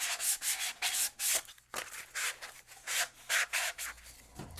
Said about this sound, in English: Still light sanding, being mindful not to oversand, not to dig it up,